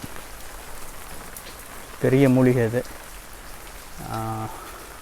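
North East Monsoon rain falls steadily in a Cauvery Delta village, a soft continuous hiss of drops that carries under two short bursts of nearby speech.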